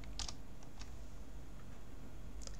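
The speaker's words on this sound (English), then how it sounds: "So let's see if that works if we type control return." A computer keyboard takes a few sharp key presses as Control and Return are typed. There is one quick double click, a lighter tap, and another click at the end over a quiet room hum.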